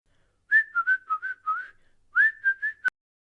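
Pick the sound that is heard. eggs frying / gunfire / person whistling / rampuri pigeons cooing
person whistling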